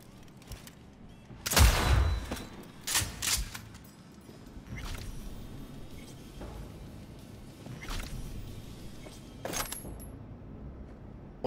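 Several sharp gunshots crack in Cyberpunk 2077 on hard difficulty, a loud double report followed by spaced, quieter single shots against a low ambient background.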